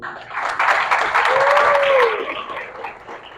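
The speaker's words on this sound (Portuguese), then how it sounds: "Eu queria dar uma salva de palmas para essas 4 pessoas esplêndidas que eu estou compartilhando esse painel" Audience applause for the members of a panel at a talk on communication, a broad steady wash of clapping with a voice-like tone rising and falling midway, fading slightly toward the end.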